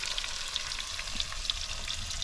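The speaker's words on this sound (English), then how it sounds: "we are frying salmon at the moment" Salmon sizzles and crackles steadily in a hot pan outdoors on Andøya, a close, continuous frying hiss with small pops and no talking.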